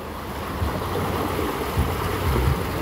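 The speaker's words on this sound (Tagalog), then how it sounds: "Ito, hindi na pipigilan ang tubig. Umaapaw talaga." Floodwater overflowing and rushing in continuous rain in Leyte and Samar, a steady broad wash of flowing water with low wind buffeting on the microphone and no talk.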